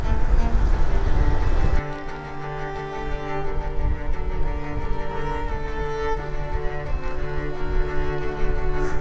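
Rushing wind noise buffets the microphone on an e-bike speeding downhill, a loud steady roar with a sharp drop near the start, then continuous broadband rumble with no talking.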